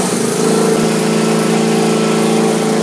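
A Honda lawnmower engine, just back from carburetor repair, fires up and runs at a steady, loud, close chugging drone with no talking.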